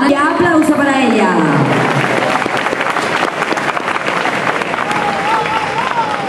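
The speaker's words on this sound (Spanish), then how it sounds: "Vamos a recibir con un fortísimo aplauso en el escenario a Ana, y aplauso para ella." Audience applause greets a bodybuilder stepping onto the stage at a bodybuilding competition in Tenerife: steady, dense clapping with some crowd noise, running under an announcer's amplified voice.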